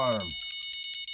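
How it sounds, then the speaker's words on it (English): A fishing bite alarm in the video game Fishing Planet rings out in a few short, bright, bell-like pulses, spaced unevenly, following a brief voiced sound at the very start. "where's my slider bell for that alarm?"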